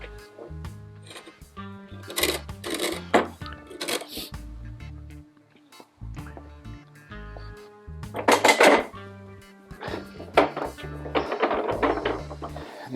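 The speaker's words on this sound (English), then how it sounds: "it's now time to flip this guy over" A rolling workbench fitted with casters is flipped over, giving a series of loud wooden knocks, clatters and scraping bumps with a few hard thuds, punctuated by quieter pauses.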